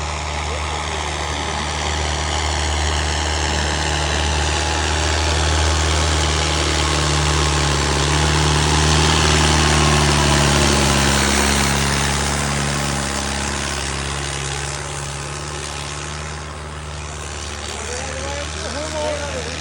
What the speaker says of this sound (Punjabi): ਇੱਥੇ ਆ ਕੇ ਦੱਬਦਾ ਹਰੇਕ ਟਰੈਕਟਰ ਦੱਬਦਾ